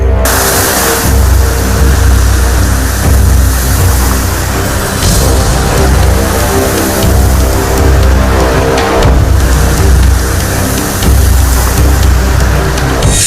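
Heavy monsoon rain falls in Delhi, a loud, steady broadband wash with a constant low rumble that may include traffic, continuous throughout with no voices.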